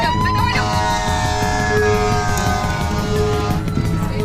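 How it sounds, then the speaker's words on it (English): Wailing sirens from emergency vehicles speeding through fog, loud and close, with a steady rising-and-falling tone over heavy traffic rumble and a blast of horn. "emergency vehicles going full tilt, sirens blaring, coming at us through a fog."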